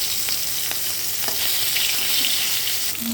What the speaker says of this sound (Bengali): মাছগুলো উল্টে পাল্টে আমি ভেজে নেবো।